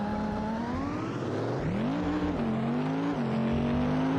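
Modified car engine in the driving simulator BeamNG, its wheels broken, holds a loud steady drone that climbs in pitch as it revs, dips, and settles into a sustained high whine.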